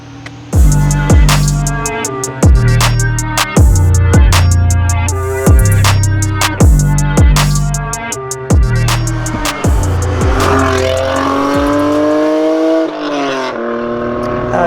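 A 1991 right-hand-drive Japanese-market Honda NSX with aftermarket exhaust accelerates hard through a run of rapid gear changes, each shift giving a rising, raspy engine note. Near and loud, it eases to a lower cruise toward the end.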